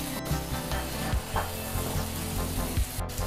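A thick masala paste for soya chunk gravy sizzles softly in a pan while a spoon scrapes and stirs, with occasional knocks against the pan.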